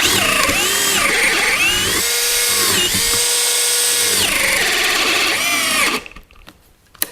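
A Bosch GSR 12V-35 Professional cordless drill-driver in second speed with a ground twist bit whines loudly and steadily, pitch dipping as it bites into material, then cuts out, leaving near silence.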